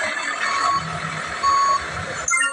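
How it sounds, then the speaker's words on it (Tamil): A truck backing up to be loaded, its reversing alarm giving two steady beeps over engine rumble, ending with a brief hiss. "லோடு ஏற்றலாம் வண்டியை பின்னாடி"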